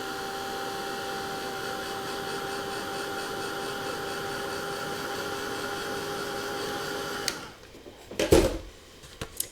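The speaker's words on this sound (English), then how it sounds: "I'll just hit this with my hair dryer" A hair dryer's steady, loud motor whir with a constant hum runs for several seconds, then cuts off abruptly, followed by a few soft clunks and handling sounds.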